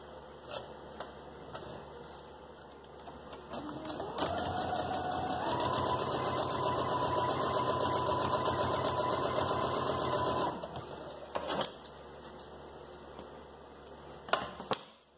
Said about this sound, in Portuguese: eu vou passar uma costura de segurança só nesse arredondado, bem na beiradinha também